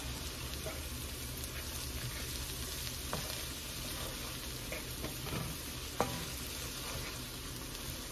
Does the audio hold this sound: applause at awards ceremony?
no